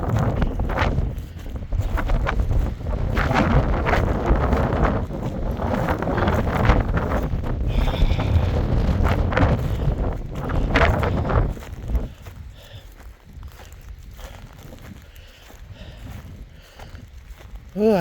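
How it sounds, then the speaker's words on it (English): Strong gusting wind buffets the microphone on an open ranch among rock formations, a loud, continuous roar with a brief lull near the end. "Getting very windy."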